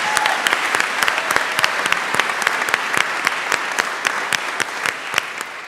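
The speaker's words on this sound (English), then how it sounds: "Let's give ourselves an applause." Sparse, scattered clapping from a modest group at a church meeting, individual claps distinct and steady throughout.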